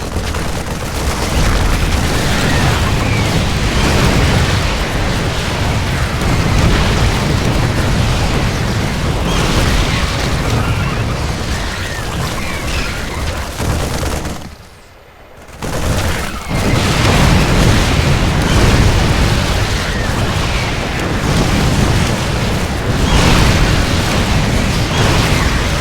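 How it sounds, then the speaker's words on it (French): Artillery explosions pounding an attacked base in the video game StarCraft II, a dense continuous roar of booms and blasts that stays loud throughout, broken by one brief drop near the middle. "J'adore quand l'artillerie va arriver."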